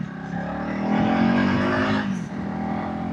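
A 2025 Honda CRF300 Rally motorcycle riding down a narrow country lane, its single-cylinder engine droning steadily with a rising rev midway and slight pitch shifts as the throttle changes, heard close from on board.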